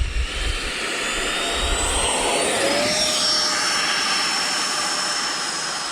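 RC model airplane engine roaring steadily at full throttle during takeoff from a runway, loud and close with a rising, sweeping whine as it climbs away.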